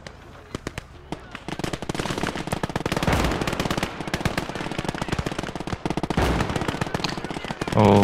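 An MG fires rapid bursts in the World War II game Gates of Hell during a hardcore Soviet skirmish at Seelow Heights. The repeated crackling volleys are loud and close, with battle noise in the background.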